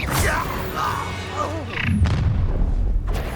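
Incendio fire spell cast during combat in the Hogwarts Legacy video game, a sustained booming whoosh with swirling magical effects beneath game voices, continuing loudly through to the end.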